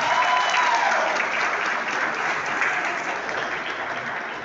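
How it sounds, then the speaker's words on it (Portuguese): Guests clap for the debutante at a fifteenth birthday party. The applause is loud and steady at first and fades slightly toward the end, with no voices standing out. "Palmas para a Debutante."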